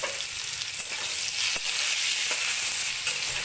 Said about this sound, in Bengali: আলুগুলি ভালোভাবে ভেজে নেব